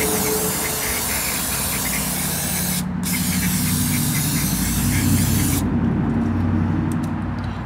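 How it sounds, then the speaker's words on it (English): A can of brake cleaner sprays in a long loud continuous hiss during work on a Dana 60 axle carrier, briefly stopping once, then cutting off before the end, with faint hum remaining. "watch that brake cleaner"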